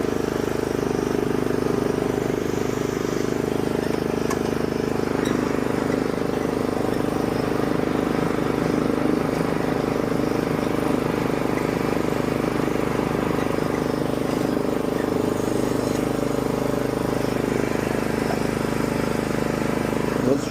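A cheap riding lawn mower's small engine runs with a steady, loud drone while the mower drives in reverse, unbroken for the whole stretch.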